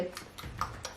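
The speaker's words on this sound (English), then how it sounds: "You can hear Milo chewing on his little rawhide toy down here." Soft, irregular gnawing and clicking of a dog chewing a rawhide toy, close by, in quick bursts with a few faint taps.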